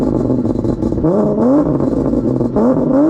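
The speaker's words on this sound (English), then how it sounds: "so I can give y'all a few revs" Infiniti G37 engine revving hard in cold weather, with repeated rising and falling revs, loud and close, and no talk.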